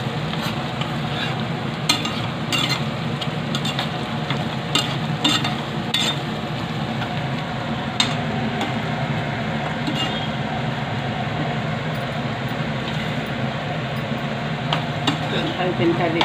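A spoon stirs Andhra prawn curry with homemade masala powder in a pan, making continuous scraping and gentle sizzling with scattered light clicks of the utensil against the metal.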